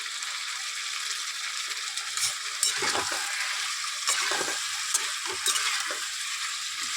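Chela fish with mankochu taro sautéing in a pan: a steady bright sizzle throughout, punctuated by several scraping stir strokes and clatters of a spatula against the pan, close and fairly loud, no talking.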